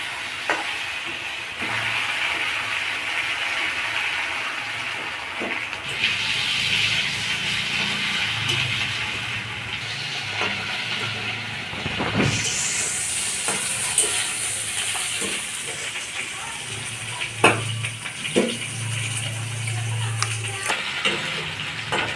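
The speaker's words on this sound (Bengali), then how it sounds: "আলুটা একটু ভেজে নেব।" Potatoes fry in a pan with a steady, loud sizzle and hiss, broken by occasional utensil clinks and stirring scrapes, and a sharper hissing burst about midway through.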